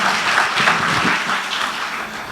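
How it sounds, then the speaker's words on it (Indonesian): Church congregation applauding during a worship service, a dense, fairly loud wash of clapping that stays steady for a couple of seconds and tapers slightly at the end. "Beri tepuk tangan dulu buat Tuhan Yesus"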